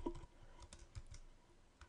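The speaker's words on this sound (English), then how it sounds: "I'm just going to type in that Summer A" Quiet, close typing on a computer keyboard: irregular light key clicks in short bursts with no voice over them.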